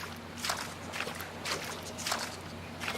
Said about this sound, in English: we also hear some watery footsteps